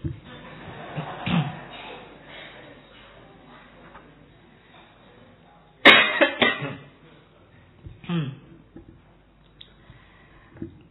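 Scattered coughs from several people break out across a room, with one loud burst in the middle and more coughing trailing off afterward.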